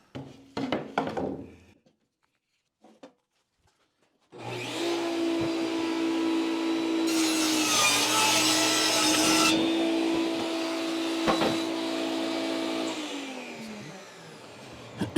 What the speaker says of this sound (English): Now I'm ripping one this width to go down.